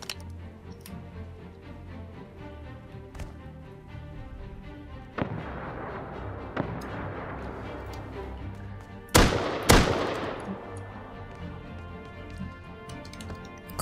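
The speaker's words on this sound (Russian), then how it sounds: "Тут кто-то очень-очень близко стреляет возле меня." Gunshots ring out close by during a Rust survival game, a scattered series of sharp cracks with two loud, heavy blasts near the end over a steady game background.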